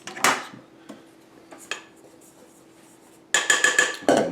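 Flour and a pinch of salt stirred together in a bowl, with scattered scraping clinks of a utensil against the bowl, a quiet pause, then a louder run of rapid clattering strokes near the end.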